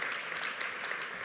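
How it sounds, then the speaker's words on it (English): A short burst of steady applause from the audience at a women's excellence awards and induction ceremony, even crowd clapping throughout. "please give them a round of applause"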